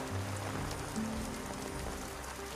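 Heavy rain pours steadily as a dense, even hiss of drops with no break, loud and close throughout, with no voices over it.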